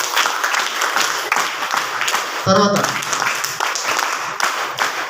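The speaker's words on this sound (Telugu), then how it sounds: "అది సార్ ఒకసారి గట్టిగా క్లాప్స్ కొట్టాలి." Audience applause at an event fills the whole clip as dense, steady clapping, while a voice speaks over it.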